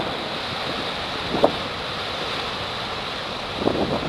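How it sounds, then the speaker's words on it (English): Big waves break against a coastal jetty, a steady roar of surf and wind with a couple of brief louder splashes, heard alone without talk. "we got some pretty big waves coming into the jetty here"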